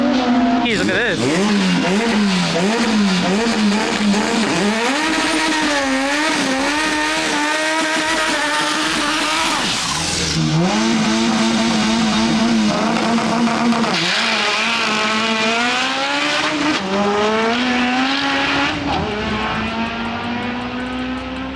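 A fully built Honda CRX hatchback at a drag race, its engine revving hard through rising and falling pitch sweeps with shifts and clutch work, loud and close. Crowd voices and talk run underneath throughout.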